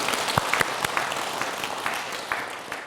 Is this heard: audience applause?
yes